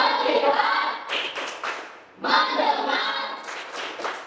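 Students in a classroom clap a rhythmic focus-clap game, sharp clustered hand claps in short patterned bursts with small pauses between groups, fairly close and loud.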